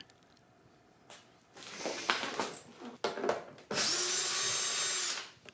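A cordless power driver backs out screws from the air intake filter on a Ski-Doo Summit snowmobile, whirring in several short bursts and then one long steady run, close and loud.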